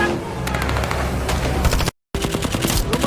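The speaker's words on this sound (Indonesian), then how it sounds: "sempat diberondong peluru oleh si kapten dan seluruh anak buahnya" Dense bursts of automatic gunfire in a film rattle continuously over a loud action backdrop, broken by a brief moment of silence before the shooting resumes.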